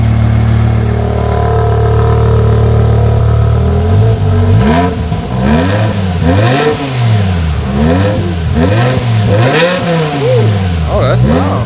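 V10 engine of a manual BMW M5 E60 with exhaust valves closed, fitted with an F1-style exhaust, idling and then blipped through a series of loud, rising and falling revs, close up.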